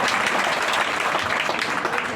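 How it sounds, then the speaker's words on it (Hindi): An audience at a poetry recital in Udaipur applauds, a short burst of dense clapping with some talk underneath. "एक बार ताली वाली बजाओ भाई।"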